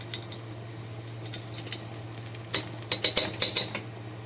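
A tablespoon of ghee added to an old nonstick pot, quiet at first, then a run of sharp metallic spoon taps and clinks against the pot, close and distinct.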